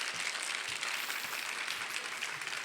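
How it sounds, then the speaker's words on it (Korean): Applause from a church congregation welcoming a pastor to the pulpit, a thin, uneven patter of clapping that holds steady throughout without any talking. "박수 소리가 좀 야박한"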